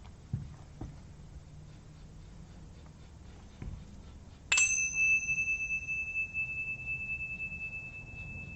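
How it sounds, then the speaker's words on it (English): A single bell strike rings out during a Gnostic Thelema Rosicrucian mass, a clear bright tone that sustains and slowly decays after a few quiet knocks and taps. "the ringing of the bell enchants my soul unto the city of the pyramids"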